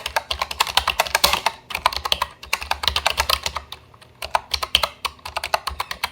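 Typing on a computer keyboard, close rapid clusters of clicking keystrokes in bursts with short pauses between, loud and alone with no talking.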